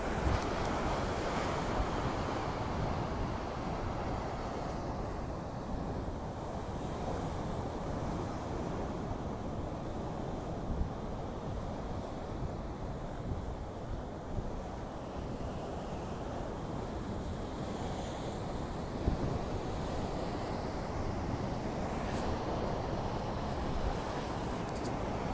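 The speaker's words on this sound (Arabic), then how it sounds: "طبعا محيط، سبحان الله. الهواء والجو رائع." Ocean surf rolls steadily onto Rabat beach in Morocco, a continuous loud wash of breaking waves mixed with gusting wind buffeting the microphone, with no voices throughout.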